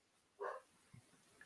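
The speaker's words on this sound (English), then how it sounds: "I apologize if you hear my dogs barking in the background." A pet dog gives a single short bark somewhere in another room, faint and distant, followed by a soft low yip in an otherwise quiet space.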